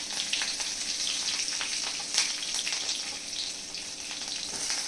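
Onion, cumin, green chilli and curry leaves fry in hot oil in a pan, a continuous close sizzle with occasional stirring scrapes and no speech.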